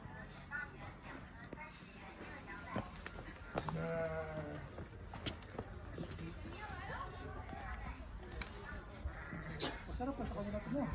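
Goats at Qingjing farm in Taiwan let out a few wavering bleats close by, set against a busy outdoor murmur of people talking nearby.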